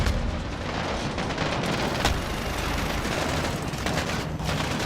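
A grenade blast in a video game campaign bursts out around the two-second mark amid a dense, continuous roar of gunfire and booming combat noise.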